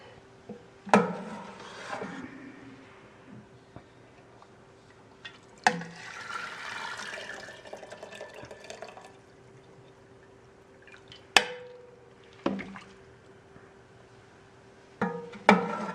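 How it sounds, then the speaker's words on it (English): Poached chicken and broth are lifted from a pot with a pasta strainer and drained into a colander: a few sharp knocks, then wet splashing and trickling runs of liquid, close and moderately loud, no talking. "I'll do these into a colander to let them drain."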